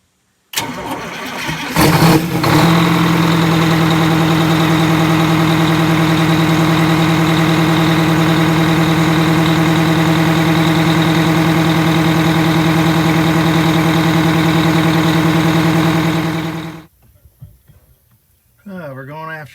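A Wanderlodge's 8V92TA 500HP diesel engine cold-starts with a brief cranking burst, then settles into a loud, steady, droning idle close by for about fifteen seconds before cutting off; a voice comes in faintly near the end.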